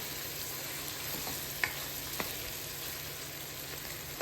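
Mutton curry pieces, mixed with salt and chili powder, cook in a pan with a steady, moderate frying hiss. A couple of soft utensil knocks stand out partway through, and there is no talking.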